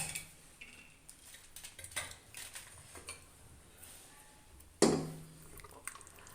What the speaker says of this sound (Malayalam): ഇനി നമ്മൾ അതിലേക്ക് അരപ്പ് ചേർക്കാം